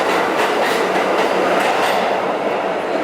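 A New York City subway train on the 3 line rumbles loudly and steadily nearby, with a continuous roar and faint rhythmic clatter of wheels on track.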